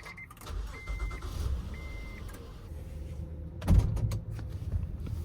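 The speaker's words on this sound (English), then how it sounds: "Let's start it up with the push start" A 2016 Honda Odyssey V6 started by push button: two brief electronic chimes, then a quick starter crank and the engine catching into a steady low idle, heard from inside the cabin.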